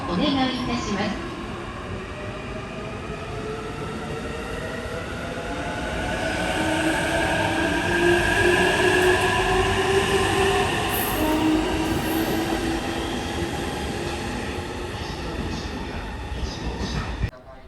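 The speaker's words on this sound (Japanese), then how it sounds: "普通列車上野行きが発車。" A JR East local commuter train bound for Ueno pulls away from a station, its wheels and motors rumbling steadily and rising, with faint squealing tones, loud and close throughout.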